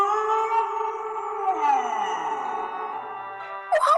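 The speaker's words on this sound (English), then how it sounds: "I think it's the big bad wolf. He howls like that." A wolf howls in a single long, loud, sustained call that slowly falls in pitch, heard close and alone, followed by a brief higher yelp at the end.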